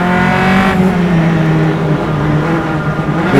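Single-seater club race cars at Mid-Ohio crossing the line nose to tail, with loud, close engine tones that sweep downward in pitch as the cars pass by in quick succession, heard without any talking.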